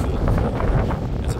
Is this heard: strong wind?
yes